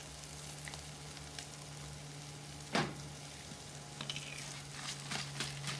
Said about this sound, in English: we're going to saute those guys